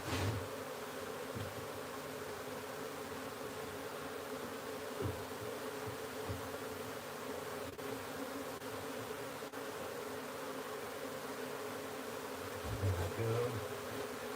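A steady, dense hum of honey bees fills the air during a wild beehive transfer into a new box, continuous and fairly close with faint handling knocks and no speech.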